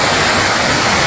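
A full, swollen river rushing near a village waterfall, a dense, steady roar of water close by and loud throughout, with no pauses.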